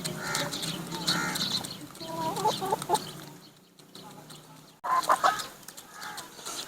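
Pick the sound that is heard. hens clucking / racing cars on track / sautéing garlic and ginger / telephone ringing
hens clucking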